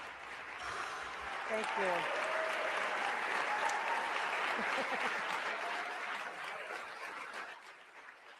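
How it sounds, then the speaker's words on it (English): A crowd claps through a formal political address before a legislature, a sustained wash of applause that swells and holds, with a brief spoken thanks and some talk audible beneath it. "At least they're kind enough to clap."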